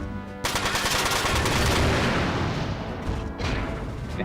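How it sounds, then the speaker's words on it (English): Rapid gunfire in the PS2 mech video game Front Mission 4, a loud, dense and sustained volley of shots running almost without pause, with a brief lull near the end. "Okay, rapid fire."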